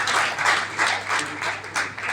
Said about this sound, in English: Can we please have a round of applause, ladies and gentlemen, to the wonderful sponsors and partners